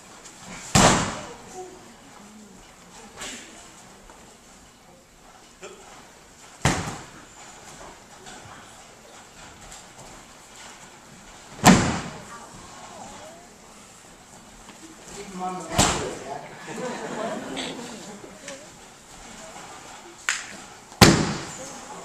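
Martial arts throws landing hard on the mat during an attack-defense demonstration at a university Japan Night event: five or six sharp, loud thuds spaced a few seconds apart, with crowd murmur and some voices between them.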